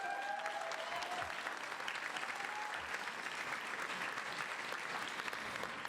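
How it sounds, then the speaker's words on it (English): A graduation ceremony crowd applauding, dense steady clapping from a large audience throughout, with faint scattered cheers mixed in. "Thank you for honoring them with a round of applause."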